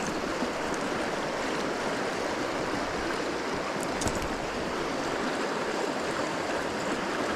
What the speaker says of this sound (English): in these rapids, I'm fishing 2 flies